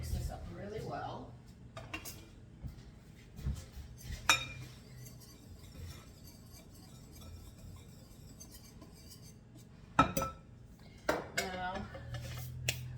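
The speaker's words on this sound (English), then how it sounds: "Now they want you to mix this up really well." Biscuit ingredients mixed in a bowl in a home kitchen, a spoon or utensil clinking and scraping against the dish in scattered bursts, with sharper knocks now and then and quiet stretches between.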